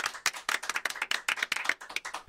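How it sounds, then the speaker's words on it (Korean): Hosts of a Korean political talk show clap together at close range, a dense run of brisk hand claps lasting a couple of seconds with no talk over it. "박수!"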